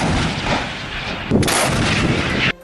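Azerbaijani artillery guns firing on enemy positions in wartime combat: loud, close, booming blasts with a rumbling roar, in two heavy bursts.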